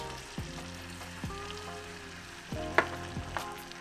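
Half a stick of butter sizzles steadily in a pan with paprika added, a close, even frying hiss broken by a few soft stirring scrapes and light clinks.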